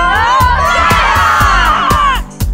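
Loud crowd of children cheering and shouting at a school track meet, a steady roar of overlapping voices with rhythmic thumps, dropping off abruptly near the end.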